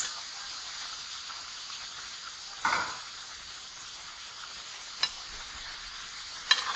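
Peeled potatoes boiled with salt go into a hot pan, giving a soft continuous sizzle with a few sharp scraping stirs at intervals.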